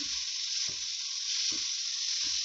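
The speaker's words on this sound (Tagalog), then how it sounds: "Haluin natin ulit." Bitter gourd (ampalaya) seasoned with black pepper and salt sizzles steadily in a pan, while a few soft scrapes of stirring break through the constant hiss.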